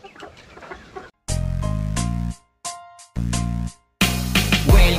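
Chickens and a pair of roosters on a farm give a few loud, drawn-out calls separated by short silences, with softer clucking and scratching at the start and a noisy burst at the end.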